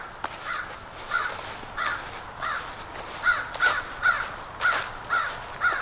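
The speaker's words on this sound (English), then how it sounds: "That's why that crow is screaming at him." A crow caws repeatedly near a hiking trail, about a dozen harsh calls in uneven bursts, fairly close and loud over faint outdoor background.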